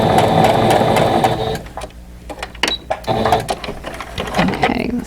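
A sewing machine runs steadily as it stitches fabric off the edge during precision quilt piecing, then stops abruptly, followed by a few clicks and light handling noises with brief murmured talk.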